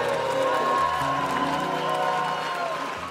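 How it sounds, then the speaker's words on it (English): A church congregation claps their hands together in a sustained, dense wash of applause mixed with crowd cheering and background music, steady throughout and gradually tapering near the end. "Clap your hands, Rock City Church."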